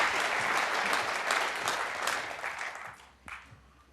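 A snooker crowd applauds a key ball, a dense, loud burst of clapping that holds steady for a few seconds and then thins out and fades.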